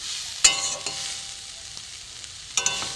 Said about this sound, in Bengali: একদম ভালো করে ভেজে নেবো ডাঁটার সাথে